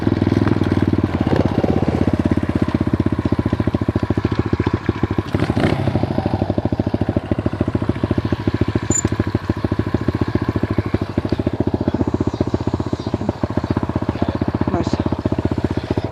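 A red Kawasaki dirt bike engine runs steadily with a rapid, rattling idle that stays close and constant, while people talk faintly in the background.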